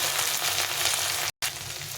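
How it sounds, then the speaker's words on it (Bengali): Tomato pieces frying in hot oil with green chilli and garlic, a loud steady sizzle throughout, briefly cut by a short silent gap. "এখন আমি দিয়ে দেবো একটা বড় টমেটো কেটে রেখেছিলাম,"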